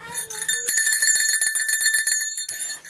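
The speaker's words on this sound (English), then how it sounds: "Hang on, I gotta ring a bell." A school hand bell is rung at home, ringing loud and clear with rapid repeated strikes and a bright, sustained metallic tone that keeps shimmering for about three seconds.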